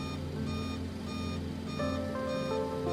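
A steady cockpit warning beeps repeatedly in a Boeing Super 27 airliner in Microsoft Flight Simulator 2024, caused by extended slats on approach to San Francisco, with sustained electronic tones sounding clearly in a quiet cabin.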